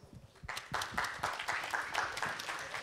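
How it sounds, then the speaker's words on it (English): Audience at a Ukrainian tech startup event breaking into applause after a brief pause, steady rhythmic clapping at moderate distance. "Please, round of applause."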